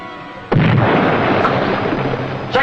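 A torpedo explosion strikes a destroyer amidships, bursting suddenly into a loud, heavy blast with a deep rumbling roar that lingers for a couple of seconds, followed by a fresh crack near the end.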